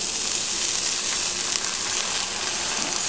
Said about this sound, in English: The garlic and the shallots are sizzling.